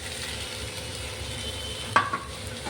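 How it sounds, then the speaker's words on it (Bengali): Mustard and chili paste fries in a pan, a low steady sizzle broken by a brief clatter of the spoon stirring and scraping near the end. "ভালো করে একটু নাড়িয়ে মিশিয়ে নেব।"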